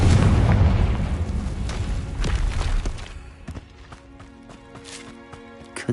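A Confringo fire spell bursts in Hogwarts Legacy with a loud, deep boom that rumbles out over a few seconds, and a few brief thuds and chimes follow as it fades.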